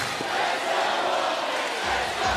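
Arena crowd at a 2010 NBL Finals basketball game in Perth, Wollongong Hawks at Perth Wildcats, a continuous loud roar of many voices cheering and shouting with no break.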